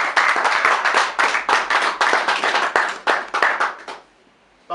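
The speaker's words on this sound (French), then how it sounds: "Et je vous demande d'applaudir très fort." An audience claps loudly at a party gathering in Brussels, a dense, sustained burst of applause with uneven swells that lasts about four seconds, then cuts off abruptly into near-silence.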